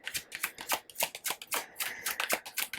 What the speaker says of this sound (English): Let's go ahead and get some oracle cards.